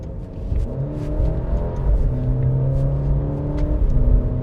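An Alfa Romeo Giulia with a 280-horsepower 2.0-litre turbo engine accelerates, its note climbing through rising sweeps as the revs build, heard close and steady.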